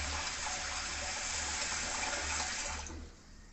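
Rice being washed in water, likely in a home kitchen: a steady running, splashing wash of water continues without a break for about three seconds, then it drops to a quieter trickle. No talk is heard.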